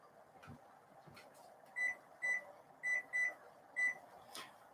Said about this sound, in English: So what I'm going to do is actually set my timer between 2 and 3 minutes.